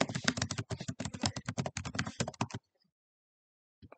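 Fast, steady typing on a computer keyboard while editing text, close and crisp clicks for about two and a half seconds, then near silence with one faint tap.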